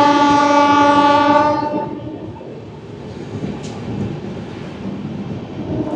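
A train runs on the rail line near Bally station, heard from aboard the Howrah to New Jalpaiguri Shatabdi Express, a loud horn tone fading into steady rumbling wheel and carriage noise.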